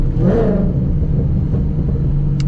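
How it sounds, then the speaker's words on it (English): A rumbling tuned Stage 3 Roush Mustang engine revs briefly and drops back, close and loud, with a low growl continuing underneath. "Definitely revs up quick."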